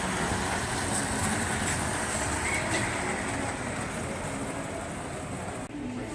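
A larger model train locomotive runs on a museum layout, giving a steady, continuous rumbling and rolling drone that holds at an even level throughout, with a brief dip near the end.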